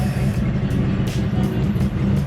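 Engine of a Corvette Z06 with 222,000 miles running, a steady low rumble heard up close with no talk over it.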